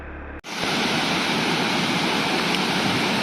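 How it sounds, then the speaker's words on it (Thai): Siriphum Waterfall on Doi Inthanon roars with strong rushing water, a loud, steady broadband torrent that starts abruptly after a short quieter moment and continues unbroken, close by. "น้ำตกสิริภูมิจากยอดดอยอินทนนท์ โอ้โหสังเกตดูไอ้ น้ำดิครับ รุนแรงเหลือเกิน"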